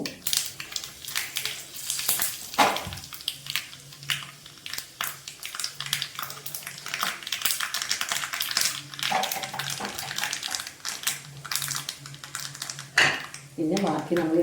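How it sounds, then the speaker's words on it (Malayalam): Rapid, irregular crackling and popping as mustard seeds splutter in hot oil, close by, with a voice talking over the crackle. "കടുക് പൊട്ടാൻ തുടങ്ങുന്നുണ്ട്"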